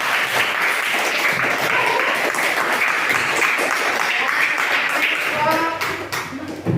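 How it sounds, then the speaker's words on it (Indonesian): A school class applauds together, a dense, loud burst of clapping that holds steady for several seconds before thinning slightly at the end, with a few voices mixed faintly into the din. "Tepuk tangan semuanya."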